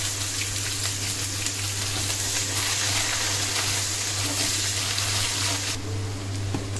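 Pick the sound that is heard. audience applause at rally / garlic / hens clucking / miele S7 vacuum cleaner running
garlic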